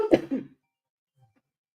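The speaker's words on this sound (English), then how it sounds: "So as you can see, I still got a cough." A single person's harsh cough, close and loud, a quick burst followed by near silence with a faint small sound near the end.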